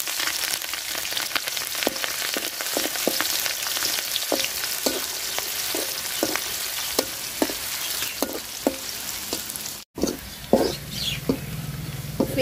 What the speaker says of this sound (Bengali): পেঁয়াজ আর মরিচ রসুন আমি লাল লাল করে ভাজা নিছি।